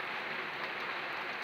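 Heavy rain during a thunderstorm pours down in a steady, dense hiss, with water running through a full gutter, unbroken and fairly close throughout.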